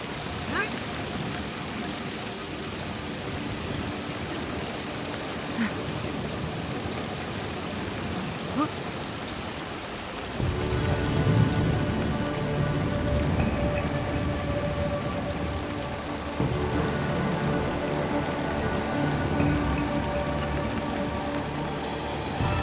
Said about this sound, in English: It's because it's so dark and it's raining.